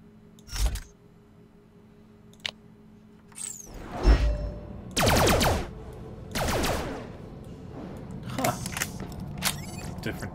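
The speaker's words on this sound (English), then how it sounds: "Oh, it's a fire laser." A fire laser gun firing in Borderlands The Pre-Sequel, heard as several separate sharp bursts with whooshing tails, loud and close over a low game-world hum.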